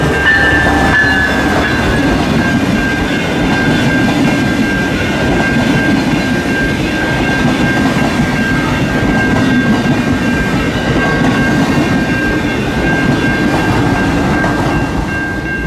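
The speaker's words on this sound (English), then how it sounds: "The Blue Water Amtrak train." An Amtrak Blue Water passenger train, running from Port Huron, Michigan toward Chicago, roars past close by in a loud, continuous rumble with a sustained high tonal whine, steady for about fifteen seconds with no voices.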